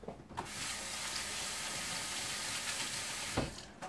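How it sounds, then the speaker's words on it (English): Tap water runs steadily into a kitchen sink while hands are rinsed, a broad close hiss lasting several seconds with brief splashy edges at start and end. "And then I'm going to rinse my hands."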